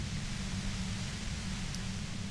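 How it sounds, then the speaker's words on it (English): Aggressive white noise from the video game Disco Elysium: a steady, dense hiss with heavy low rumble, unbroken and loud throughout, with no voices. "Aggressive white noise fills your skull."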